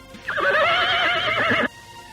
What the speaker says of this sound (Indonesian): sementara Samara, tangan kanan Patih Nambi, naik kuda berwarna hitam legam.